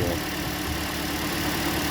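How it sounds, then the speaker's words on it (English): A 2009 Toyota Corolla engine idles steadily, a continuous even hum with no talk over it. "have a listen to the engine, and you can see that the engine's running neatly"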